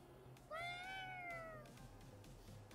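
A cat-like yokai in Ghostwire: Tokyo lets out one clear, drawn-out meow that rises then slowly falls, fairly close over quiet background sound.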